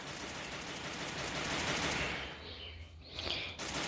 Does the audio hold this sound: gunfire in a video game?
yes